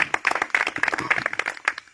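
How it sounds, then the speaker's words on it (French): A church congregation claps together in a dense, lively burst of applause that fills the room briefly before fading. "On acclame pour lui."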